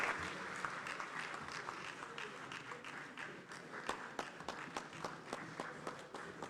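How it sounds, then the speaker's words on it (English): Audience in a Ghanaian debate setting applauds for a reverend, starting as a diffuse wash of clapping that thins into a few distinct, spaced claps toward the end, at moderate distance. "Please, a round of applause for my younger brother"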